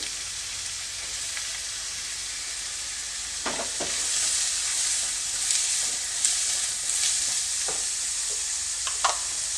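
Finely chopped carrots and beans fry in hot oil for vegetable masala Maggi, giving a bright steady sizzle, with scattered stirring scrapes and light clatter from the utensil in the pan.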